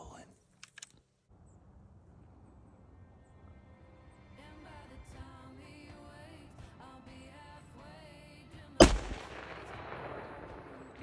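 A single loud, sharp rifle shot goes off during a whitetail buck hunt in Idaho, with a brief echoing tail, preceded by faint clicks and a quiet outdoor background.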